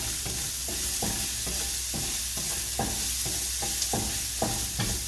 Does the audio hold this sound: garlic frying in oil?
yes